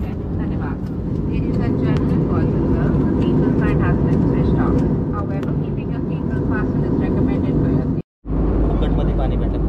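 Steady, loud airplane cabin rumble on a Mumbai to Goa flight, a dense engine and airflow drone that runs continuously, dropping out for a brief moment near the end, with faint voices murmuring underneath.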